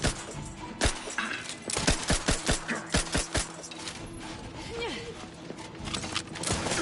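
Gunfire in the video game The Outer Worlds, with a rapid series of sharp shots clustered in bursts, some close together, over a background of game ambience.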